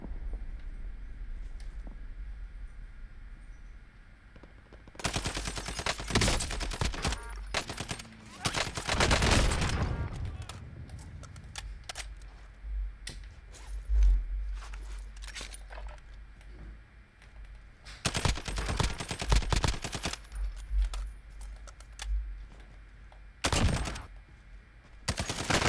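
An FN Scar 17 battle rifle fires in Warzone, in several loud bursts of rapid, close shots separated by quieter gaps of ambient game noise.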